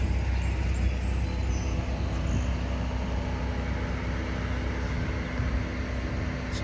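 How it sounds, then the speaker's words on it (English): Radiator fans on a modded 2022 Genesis G70 3.3L twin-turbo whirring steadily in hot weather, a constant low broadband hum with no talking. "So you can hear the radiator fans going off."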